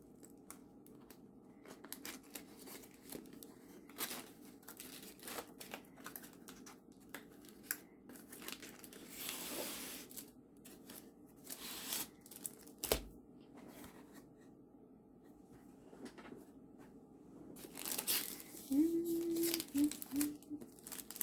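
Plastic packaging of a 40 by 50 diamond painting kit crinkles and tears in soft, intermittent rustles, with scattered handling noises and a slightly louder burst of crumpling near the end.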